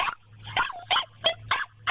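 A puppy at an animal rescue shelter barks and yips in a steady run of six sharp, evenly spaced barks, close and fairly loud, with a low hum beneath.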